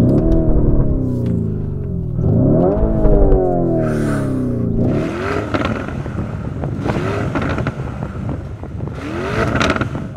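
A Lamborghini Urus engine revving hard in a few repeated rising bursts, loud and close, each climb falling back before the next, with wind or exhaust rush between them.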